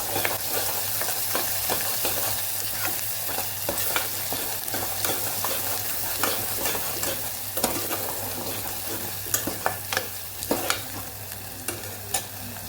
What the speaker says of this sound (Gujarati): અહીંયા આપણે લસણ પણ ઉમેરી દઈશું. એને થોડી વાર સાતળી લઈશું.